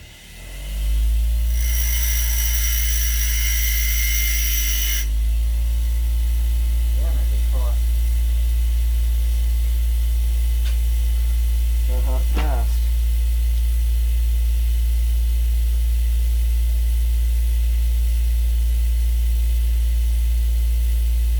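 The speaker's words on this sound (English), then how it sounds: "Now I'm going to profile the sides with the grinder and give it a tip." A grinder profiling the sides of a soldering iron tip gives a brief, harsh, high grinding burst lasting a few seconds, then a steady electrical hum continues with a couple of faint clicks.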